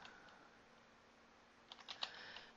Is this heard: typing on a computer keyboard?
yes